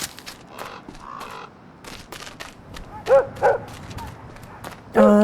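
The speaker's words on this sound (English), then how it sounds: "Oh, somebody got a dog." A dog barks a few times mid-range in The Gretlow Tapes, short sharp yaps rising above steady game ambience and a talking voice, with a louder final burst at the end.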